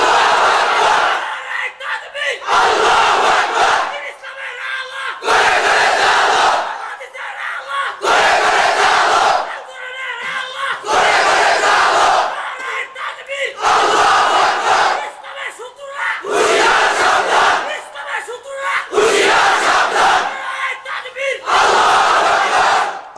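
A large crowd at a religious gathering shouts the takbir chant in loud, rhythmic unison bursts, roughly a dozen regular call-and-response roars separated by short pauses, close and forceful.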